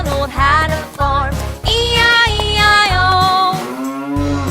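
A cartoon cow moos in short, tuneful calls within a nursery song about a farm, the low lowing sounds alternating with singing and bouncy backing music.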